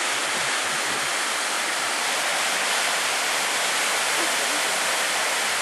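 A waterfall near Port Welshpool, Victoria, Australia roars in a constant, loud wash of rushing water, steady and unbroken throughout with no voices heard.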